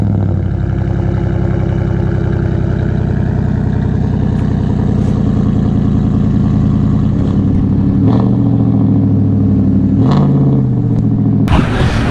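A Ford F150 truck with a Coyote V8 engine drones loud and close, its low exhaust note holding steady, then shifting in pitch a few times before a sudden louder burst at the end.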